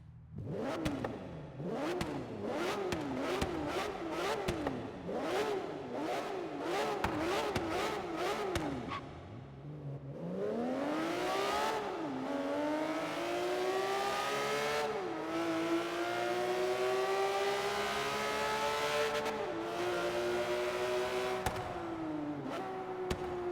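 A Porsche GT3 RS engine in the racing game Forza Horizon 3 screams through rapid gear shifts, then climbs in long sustained wails, loud and close.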